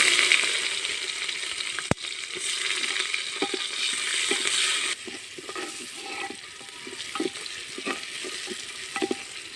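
Chopped onion frying with cinnamon, cardamom and cloves in an earthen clay pot for chicken curry, a steady close sizzle broken by stirring scrapes and light clinks, with no talking.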